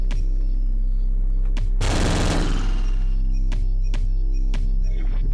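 Rapid automatic gunfire in the video game Future Noir, a loud sustained burst of shots over a steady droning game soundscape, followed by a few isolated sharp cracks.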